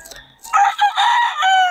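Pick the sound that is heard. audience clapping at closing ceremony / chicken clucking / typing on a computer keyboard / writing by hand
chicken clucking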